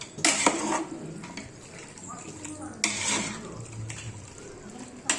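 Chicken being stirred with ground masala in a pot, a spoon scraping and clinking against the metal in irregular strokes close by, with a person talking softly at times.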